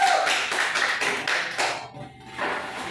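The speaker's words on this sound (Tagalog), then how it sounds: "bigyan muna natin sila ng masigapong palakpak" An audience bursts into enthusiastic applause for a student group about to perform a short story skit, with dense, steady clapping that dips briefly and then swells again.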